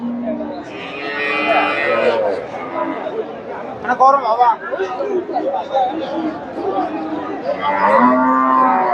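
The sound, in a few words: Friesian dairy cow mooing at a cattle market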